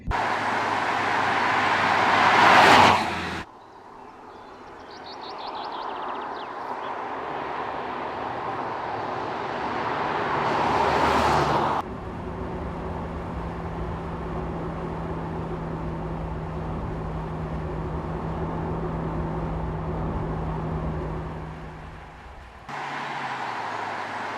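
A 2023 Mercedes-AMG C 43 driving, with steady engine drone and road and wind noise inside the cabin, a sustained low tone through the middle and louder rushing passages at the start and around the tenth second.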